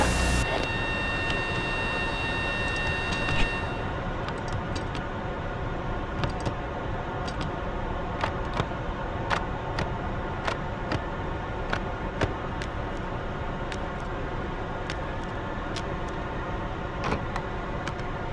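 An F-14B Tomcat jet engine spools up in the DCS flight simulator: a steady broadband turbine roar with a high whine fading after a few seconds, punctuated by faint intermittent cockpit clicks.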